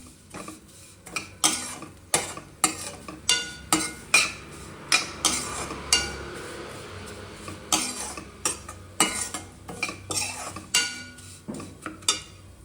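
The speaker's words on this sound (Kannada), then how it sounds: "ಶಾವಿಗೆ ಹಾಕ್ಕೊಂಡು ಚೆನ್ನಾಗಿ ಫ್ರೈ ಮಾಡ್ಕೊಳ್ಳಿ" Vermicelli frying in a pan while a utensil stirs and scrapes it, giving repeated metallic clinks and scrapes at a steady, fairly quick rhythm, moderately close and faint, with no talking.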